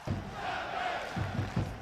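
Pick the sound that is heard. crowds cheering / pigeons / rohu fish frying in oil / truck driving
crowds cheering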